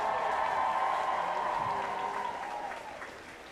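Audience at a graduation commencement ceremony breaks into a big, sustained round of applause, steady and dense at first, then gradually tapering off.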